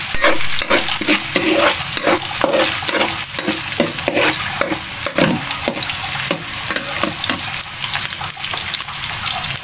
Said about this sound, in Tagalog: mag-gisa na tayong bawang sibuyas